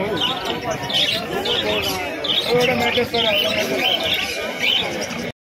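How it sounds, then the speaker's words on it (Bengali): Young native pigeons cooing and chirping at a busy bird market, soft bird calls threaded through a constant hubbub of crowd chatter and nearby talking. "দেখতে পাচ্ছি কিছু দেশি পায়রার বাচ্চা রয়েছে।"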